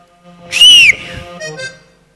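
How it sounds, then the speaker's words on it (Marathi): A single sharp whistle blast, short and loud, followed by a softer second toot, close by with a quiet background. "शिटी वाजवा हा सर"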